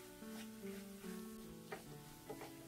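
Egg halwa being fried and stirred in ghee in a pan, a steady close sizzle with a few brief scraping stirs standing out over it.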